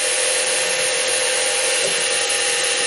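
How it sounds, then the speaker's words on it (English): A solid carbide end mill grinds steadily through metal with a continuous, dense, loud machining whine that holds unbroken throughout, with no voices. "I'm trying to do this without flexing the end mill"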